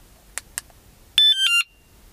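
Two short clicks, then a loud wireless rechargeable motorcycle alarm, held in a hand, blares in pulsing, shifting tones for about half a second before cutting off abruptly.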